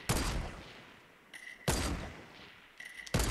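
Bursts of gunfire in the video game Fortnite, two loud close volleys separated by a quieter stretch with faint metallic clicks, then a third burst starting at the end.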